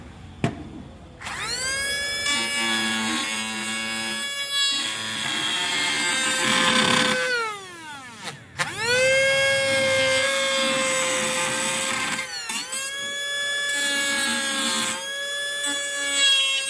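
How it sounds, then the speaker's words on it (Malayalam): Homemade cutting machine with a small, sharp blade saws through PVC pipe, its motor whining up loudly, bogging as the blade bites, then cutting off and restarting across several passes, no talk. "ഞാനിപ്പോൾ ഒരു PC പൈപ്പ് എടുത്തിട്ടുണ്ട്, നമുക്ക് കട്ട് ചെയ്ത് നോക്കാം"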